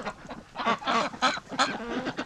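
Ducks quacking near a barn, a run of loud, close nasal calls in uneven bursts, several birds overlapping.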